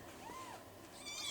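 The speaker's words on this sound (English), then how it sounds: "finest little kittens you'd ever see" Tiny kittens in an abandoned mining ghost town give soft, high, faint meows, a couple of rising little cries close by against a quiet background.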